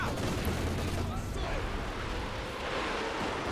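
A mortar barrage in Company of Heroes, heard as a dense, continuous rumble of explosions and crackling fire that fills the whole moment, loud and unbroken, with a commentator talking over it.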